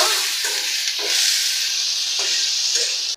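Ingredients added to fried onions crackle loudly in a hot pan. The close, bright sizzle stays constant throughout, with a few faint stirring scrapes, and stops abruptly at the end.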